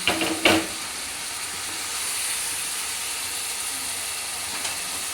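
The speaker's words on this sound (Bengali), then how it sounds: "কিছুক্ষণ কষিয়ে নিয়ে আমি ভেজে রাখা চিংড়ি মাছটা দিয়ে দিলাম" Fried prawns hit a hot pan and set off a steady hiss of sizzling oil after a couple of brief clatters at the start, continuing evenly throughout.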